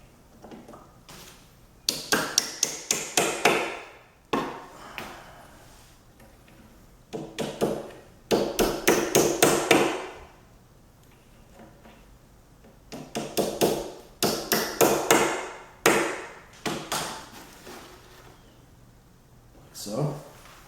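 Rapid bursts of sharp hammer taps driving wooden pegs into an IKEA Kallax shelf panel, each run of quick blows ending with a heavier strike, repeated several times with short pauses between.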